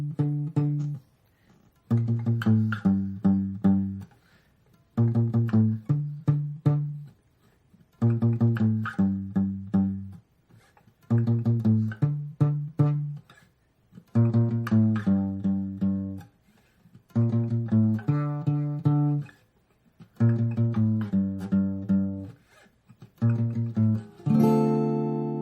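A bass line for a pop song plays alone in short repeated melodic phrases separated by brief pauses, moderately loud and close, with no voices.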